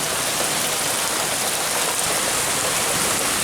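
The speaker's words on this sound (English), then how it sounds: "And there goes the rain." Heavy rain pours down steadily over a small backyard koi and goldfish pond, a dense, loud hiss of drops striking surfaces without pause.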